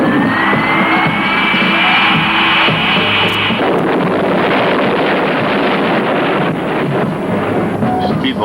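A TV-show sound effect of an airplane crashing after engine number three fails. A high whine runs over a loud, steady rushing roar, then gives way to dense, turbulent noise that lasts about eight seconds.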